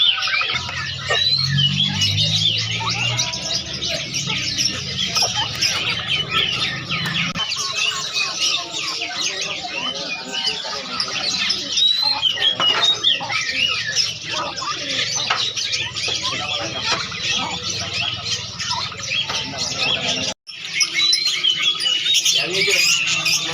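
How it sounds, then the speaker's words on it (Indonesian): Many birds chirp and tweet continuously at a bustling hobby market in Makassar, with roosters and chickens clucking and people talking nearby throughout. "Ini burung apa?"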